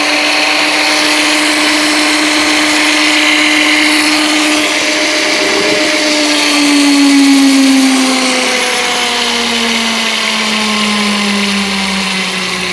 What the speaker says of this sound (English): you can feather the throttle and get pretty slow speed, and you can go pretty quick